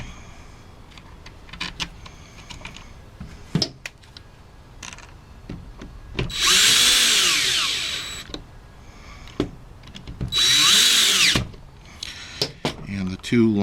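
A power screwdriver drives screws into a belt sander during repair, two whirring bursts of about two and one seconds each, loud and close, with clicks and handling noises between them.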